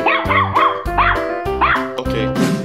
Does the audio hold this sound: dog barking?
yes